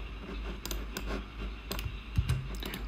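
Light clicking of keys on a computer keyboard while typing, scattered taps in small irregular bursts, close and fairly quiet over a low hum, with no voices.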